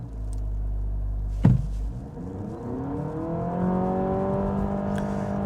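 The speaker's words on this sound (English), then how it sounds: "And this thing, when you really give it the hammer, it is fast." A 2026 Honda Civic Sport Touring Hybrid hatchback accelerating hard from 0 to 60, the engine droning and rising steadily in pitch after a brief clunk near the start, heard from inside the cabin.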